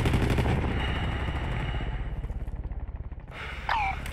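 Automatic gunfire in Call of Duty Modern Warfare 3 rattles in a loud, sustained burst of rapid, evenly spaced shots that fades out. A sharp burst of other noise follows.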